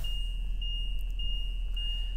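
A 2015 Tiffin Phaeton 40QBH motorhome sounds a steady high-pitched warning tone as its leveling jacks lower, continuous and fairly clear over a low engine hum.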